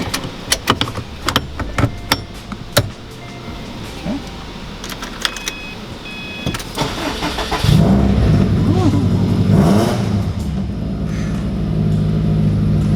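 2011 Subaru WRX STI with a roll cage being fitted, clatter and door sounds first, then the engine starts and rises into a loud, rough idle and revving up close.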